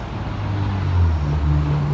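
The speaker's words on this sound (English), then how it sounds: "Please excuse the traffic noise, as this is right on the front of Gallatin Road here in Hendersonville." Steady road traffic on Gallatin Road in Hendersonville, passing cars and trucks making a continuous low rumble that swells slightly midway, heard near and without talk.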